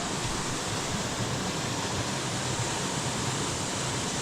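A waterfall roars as a steady, dense broadband rush, loud and close, holding even with no break for the full few seconds and no voices over it.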